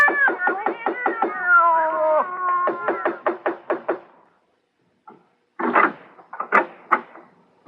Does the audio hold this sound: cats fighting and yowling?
yes